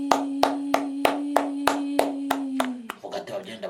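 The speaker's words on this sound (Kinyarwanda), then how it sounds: "Koma mu mashyi ushimira ababyeyi uvuze impundu." Hands clap in an even, brisk rhythm, about nine sharp claps close by, to thank the parents, over a sustained held vocal tone; the pattern then breaks into looser, scattered sounds and voices.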